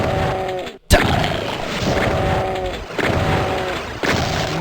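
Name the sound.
gunfire in the video game Doom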